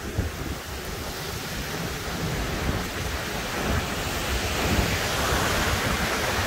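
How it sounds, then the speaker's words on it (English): Hurricane wind blows hard and steadily through trees during Hurricane Ian in Hillsborough County, a dense broadband roar that builds slightly over several seconds with no voices. "but that's the sound of like the wind."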